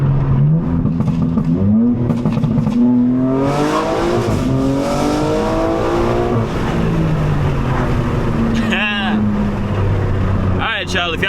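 A tuned 750hp BMW M4 G82 accelerates hard, engine note rising steadily through the revs across several gears in a loud, close, continuous roar, with quick shift breaks and a sharp burst near the end.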